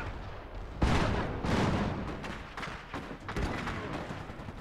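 Gunfire in the Iron Harvest strategy game as units shoot down enemies, with rapid booming shots and thuds in quick bursts over a dense rumbling battle background.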